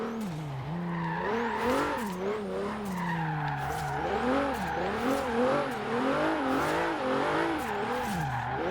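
A 700HP Hyundai Genesis Coupe drift build slides around a roundabout, its engine revving in wavering surges under continuous loud tire squeal and skidding.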